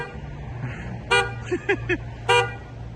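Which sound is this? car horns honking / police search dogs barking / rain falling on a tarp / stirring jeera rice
car horns honking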